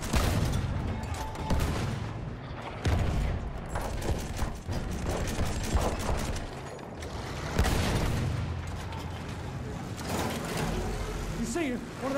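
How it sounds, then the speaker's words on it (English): Enemy machine gun fire in a World War I video game battle on the Somme, with a Mark landship tank, sounding as dense crackling bursts over rumbling engine and battlefield din, loud and continuous, with a voice talking over it. "It's an enemy machine gun."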